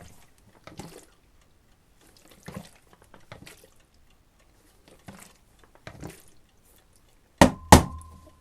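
A film developing tank filled with FX55 developer is agitated in a series of faint sloshing, rattling bursts at a steady rhythm, followed by two sharp, louder taps near the end.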